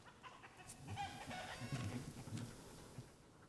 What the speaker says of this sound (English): Our young rooster, he's at that stage where he really needs some ladies.